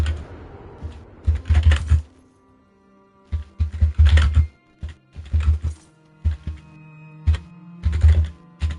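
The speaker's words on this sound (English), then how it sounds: "Now I know why typing is always so loud when I hear it on streams" Computer keyboard typing heard close and loud in irregular bursts of rapid clacking keystrokes separated by short pauses, alone without voices.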